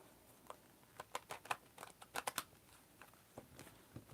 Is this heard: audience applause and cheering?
no